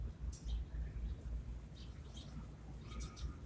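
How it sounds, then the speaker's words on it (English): Faint bird chirps and calls come in short scattered bursts over a quiet, low outdoor hum. "And you can hear the birds."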